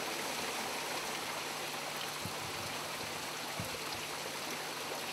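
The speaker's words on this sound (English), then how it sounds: "This is water that comes through the property from the place where we went before. And it makes natural pools." Stream water flows past small hot springs along a river, a dense, steady broadband rush with no pauses, close and fairly loud, a few faint low thumps beneath.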